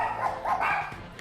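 A dog barks in a short run of close, steady woofs with no talk over it, the kind of noise that can bother neighbours in an apartment building.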